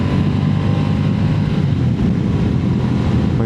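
A 2025 Moto Guzzi Stelvio big twin pulls steadily from low revs, a loud, continuous low rumble heavily mixed with wind buffeting at the microphone and no pauses throughout.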